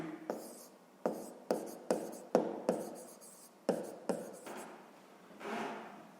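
Pen or pencil strokes on paper while solving a sixth-grade math exercise: a series of about ten crisp, close scratching strokes in irregular rhythm, with short pauses between and a softer rub near the end.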